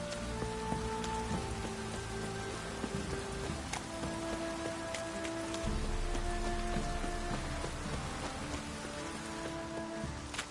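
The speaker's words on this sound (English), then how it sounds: "Looks like rain." Steady rain falls throughout a scene in The Witcher 3: Wild Hunt, a dense hiss of drops on surfaces mixed with game music tones, continuous and fairly loud with no talking.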